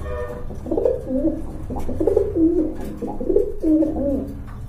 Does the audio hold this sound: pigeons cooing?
yes